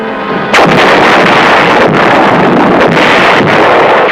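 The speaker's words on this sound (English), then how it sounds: "flame erupted along an 85-mile front. Hitler's great drive to Antwerp had begun" Artillery barrage opening a wartime offensive along a broad front at dawn: a dense, continuous roar of distant gunfire with wind-like rumble, loud and sustained with a few sharper bursts, no voices.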